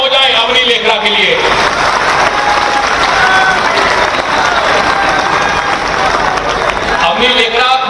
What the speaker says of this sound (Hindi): तो डबल तालियां हो जाए अवनी लेखरा के लिए।